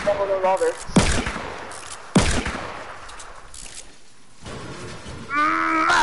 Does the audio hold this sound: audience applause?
no